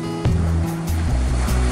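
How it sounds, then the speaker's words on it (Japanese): Shin-to-knee-high ocean swell breaks on the inside at a home surf point on a calm morning with a faint offshore wind, a steady continuous wash of surf with low rumbling and no voices. "すね膝程度のうねりがミドル付近からインサイド気味にブレイクしましたが、乗れるような感じではないですね。"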